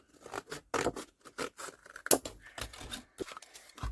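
Scissors snip through material for a folio pocket in a quick series of close, crisp cuts with short pauses between them, faint and alone.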